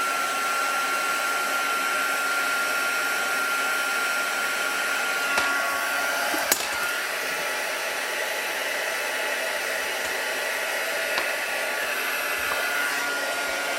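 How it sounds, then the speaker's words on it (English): A heat gun blows with a steady loud whooshing roar while melting gold embossing powder on a paper bag, continuous throughout with a couple of faint small knocks. "And just move your heat gun around."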